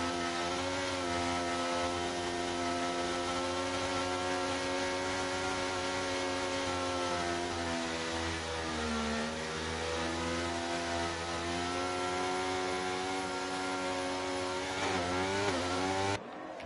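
Racing car engines at a restart of a Burnt Rubber Racing Division 1 event in Belgium, a steady, loud drone of several motors revving together, holding for the whole stretch with a brief pitch dip midway and a rising swell near the end.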